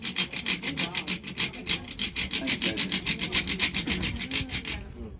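A first-century-style hand drill grinds into wood with quick, steady back-and-forth rasping strokes, close and regular, before stopping at the end.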